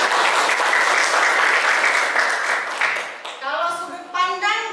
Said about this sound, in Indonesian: tepuk tangan dulu untuk Resti.